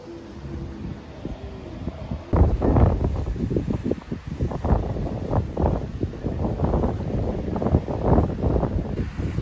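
Very strong wind on the Costa del Sol buffets the microphone, producing a loud, continuous roar with heavy gusting rumbles that swell and surge throughout.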